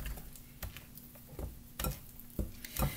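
Cookie batter being stirred in a bowl, soft repeated taps and scrapes of a utensil against the bowl at an uneven rhythm, close and quiet, with no talking.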